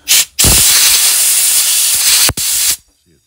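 A compressed air hose blasts loudly and close while cleaning a Honda Big Red 250ES carburetor, with a short burst, a long continuous hiss, a brief break, then another hiss cut off abruptly.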